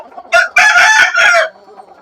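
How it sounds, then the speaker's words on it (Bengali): A rooster among crested, large-breed chickens on a poultry farm crows loudly and close by: one drawn-out cock-a-doodle-doo in several strong pulses, heard alone with no talking. "এই যে জুটিওয়ালা মুরগি দেখায়, এই যে জুটিওয়ালা দেখেন কত বড় জাতের জুটি এবং মুরগি কত বড় দেখেন"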